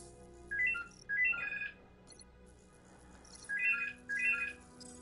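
A phone in the VR game Red Matter rings in two pairs of chirping electronic trills separated by a pause. It plays over a low hum, with no talking.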